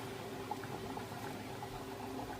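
Thick strawberry jam bubbles and pops steadily in a pot at a rolling boil, close up, with no voices.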